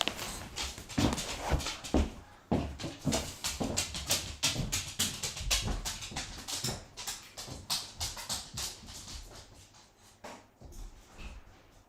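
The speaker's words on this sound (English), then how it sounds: "let me go and let my dogs out" Dogs being let out of a house, with a busy run of claws and paws tapping and scuffling on a hard floor, close and fairly steady throughout, plus a faint whimper here and there.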